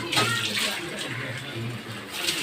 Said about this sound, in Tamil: தண்ணி விட்டு